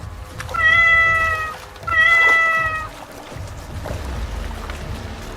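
A cat meows twice, each a long drawn-out cry, close and loud, followed by quieter background noise.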